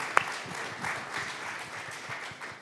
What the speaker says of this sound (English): I want a huge round of applause for them